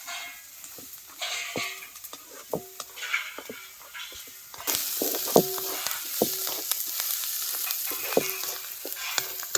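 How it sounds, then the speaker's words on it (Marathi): Chopped onions fried reddish-brown in a pan over a village wood-fire stove, stirred with turmeric for tomato chutney; a steady sizzle with repeated scraping strokes of a spoon, the frying growing louder and brighter partway through. "कांदा आपला छान लालसर परतलाय त्याच्यामध्ये आपल्याला अर्धा चमचा हळद टाकायची आणि हे मिक्स करून घ्यायचं सगळं"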